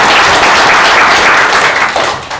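The audience at a public hearing on improving charter bus services claps together in a loud, close burst of applause that thins out slightly toward the end.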